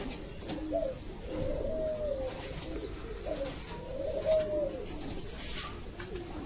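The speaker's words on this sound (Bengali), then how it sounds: "এগুলো সবগুলো কবুতর" Pigeons of several kinds kept at a pigeon breeder's loft coo in repeated low, throaty phrases, with a steady soft bird chatter underneath throughout.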